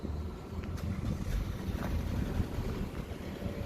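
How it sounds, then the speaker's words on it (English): A Vauxhall Astra H 1.4 petrol engine on its stock exhaust, with muffler and resonator in place, runs with a low, steady, muted rumble close to the microphone and no talking over it. "This is what it sounds like stock."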